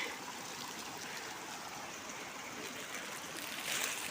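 Water flows through a drain beside a house, a steady rushing, trickling wash that stays even and moderately loud throughout, with no talking.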